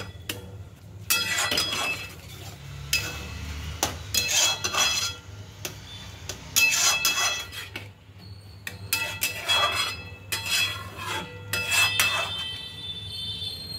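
A spoon stirring fresh cream into paneer butter masala in a pan, with repeated scraping and clinking of metal against the pan in irregular bursts, close and clear over a low steady hum.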